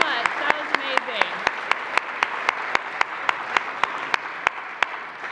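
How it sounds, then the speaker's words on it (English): Audience applause at an interfaith event, loud and sustained throughout, dense clapping with sharper individual claps standing out, a near wash of hands filling the room. "Let's give them one more round of applause."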